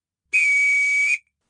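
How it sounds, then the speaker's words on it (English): A man gives one steady whistle to call someone in a garden. The clear, sustained tone lasts just under a second and stands alone in silence. "Oh dear, I believe he is whistling for me."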